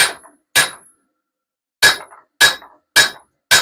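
A hammer strikes hot metal in a workshop, giving sharp, ringing clangs: two blows, a pause, then four more in an even rhythm, loud and close with silence between.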